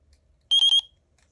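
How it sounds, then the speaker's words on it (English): A RadioMaster Pocket radio transmitter gives three quick electronic beeps in a tight burst while binding, bright and tonal, standing out against near silence. "hopefully that double beep means it's bound"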